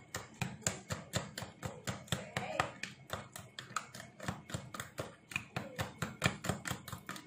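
A spoon stirs a meatloaf mixture with sugar in a bowl, making quick, regular knocking taps, about four per second, close and steady.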